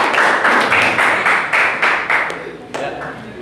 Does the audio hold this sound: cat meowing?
no